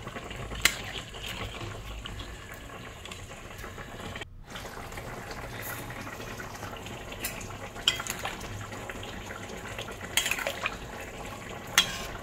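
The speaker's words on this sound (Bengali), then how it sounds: "গরম জলটা এর মধ্যে দিয়ে দিলাম, দিয়ে এবার এটাকে ফুটতে দিতে হবে।" Mutton curry simmering in a pot after hot water is poured in, giving a steady close bubbling and sizzling texture with faint utensil clinks, no talking.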